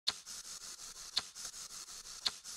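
A percussion top loop from a pop ballad production, with a steady wash of bright, hissy hi-hat-like texture and sharper accented hits about every second, played alone and fairly quiet.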